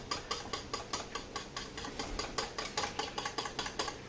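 A whisk beating cheesy potatoes in a bowl gives a steady, rapid series of light metallic clicks and scrapes, close and fairly quiet, with no talking.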